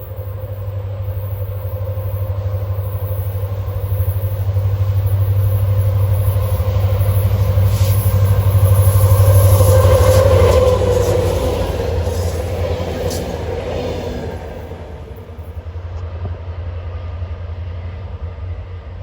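Norfolk Southern light engines, locomotives running without cars on the Pittsburgh Line, rumble past with a deep diesel drone that swells toward the middle and then fades, carried over steady outdoor noise.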